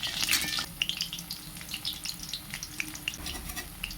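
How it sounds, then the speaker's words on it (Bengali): Bora fritters frying in oil over low heat, with a steady crackling sizzle and scattered small pops that stay close and moderately loud throughout, no voices. "আমি হালকা আঁচে রেখে দিয়েছি এই বড়াগুলো"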